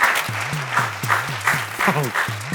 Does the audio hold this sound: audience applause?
yes